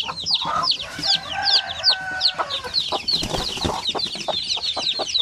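Many native chicks and chickens cluck and chirp busily at close range, a dense overlapping chorus of clucks and peeps with an occasional louder call.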